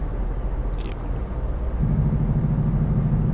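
A Cummins ISX engine in a Freightliner Century truck in American Truck Simulator gives a low, steady rumble. A deeper droning tone swells in partway through as the engine loads up.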